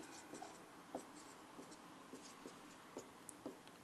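Writing by hand with a pen or chalk during a maths lesson: short, light scratching strokes tap out an uneven rhythm over a faint steady room hiss, quiet and close, with no talking.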